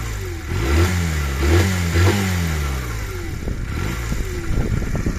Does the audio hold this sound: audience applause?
no